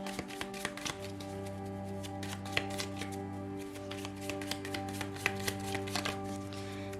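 Tarot cards being shuffled by hand, a steady run of soft riffling and tapping clicks close by over a constant low hum, with no talking.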